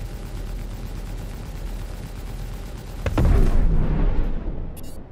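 Spaceship guns firing in Star Citizen, a steady rumbling barrage building into a heavy booming blast around the middle, then fading into a rushing wash, with no talking.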